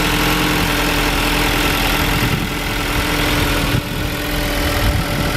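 A 2018 Ford EcoSport Titanium with an inline four-cylinder engine idles under the open hood outdoors in the cold, a steady, close, loud rumble with a constant hum and no talking over it.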